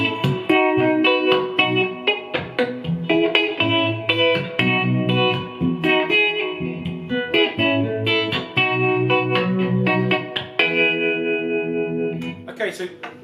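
Clean electric guitar played through a Reverberammo spring reverb pedal, strummed chords and picked notes ringing with a wide, washy reverb tail, loud and close, continuous for the whole stretch.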